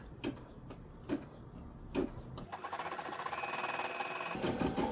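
A Brother M380D embroidery machine starts after a few isolated clicks and settles into a rapid, steady mechanical stitching whir with fast regular needle ticks, heard up close and alone.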